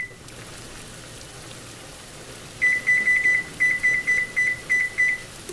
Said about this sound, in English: you want to set your timer for 35 minutes